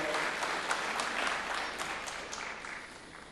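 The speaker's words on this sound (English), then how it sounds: "Round of applause, Kolkata." Audience applause at an India Today interview event in Kolkata, a steady wash of many hands clapping at moderate distance, sustained and fairly even before gradually easing off.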